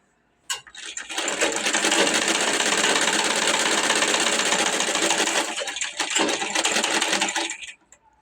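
A sewing machine runs steadily for about seven seconds while stitching a shirt, a close, loud, continuous mechanical whir with rapid needle clatter that starts abruptly and stops with a brief pause near the end.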